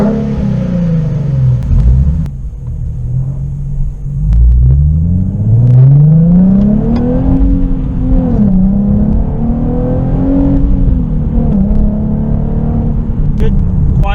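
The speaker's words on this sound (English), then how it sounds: "Doing the test drive on the 370Z with the Greddy cat back" A 2017 Nissan 370Z fitted with a Greddy Evolution GT cat-back exhaust drives along, its deep engine rumble rising and falling with gear changes and acceleration as heard from inside the cabin, loud and continuous.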